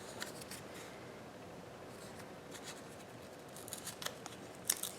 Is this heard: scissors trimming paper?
yes